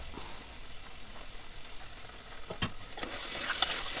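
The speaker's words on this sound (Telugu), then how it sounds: "వేసి బాగా వాటిని కూడా కలదిప్పాలి. అవి కూడా కొద్దిసేపు వేగాల." Soaked avarekai seeds stirred and fried in a pan for curry, a continuous sizzle broken by a few sharper scrapes and clinks of the spoon near the end, with no talk.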